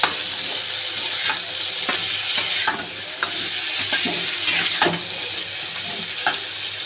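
Cauliflower stirred and frying in a pan, a steady loud sizzle with repeated scraping strokes of a spoon against the pan, no talking.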